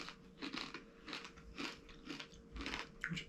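A crunchy, fragile brandy snap of rolled candied brandy being bitten and chewed: a quick series of close, crisp crunches and crackles, roughly one every half second, no talk.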